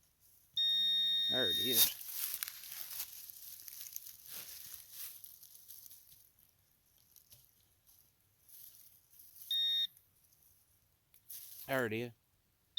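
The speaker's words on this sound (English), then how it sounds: "I know the detector didn't just go off in mid-air again." A metal detector sweeping Tennessee back country sounds off three times with warbling electronic tones over a buried target, first a long tone, then a short blip, then a final warbling beep, with someone speaking briefly between them.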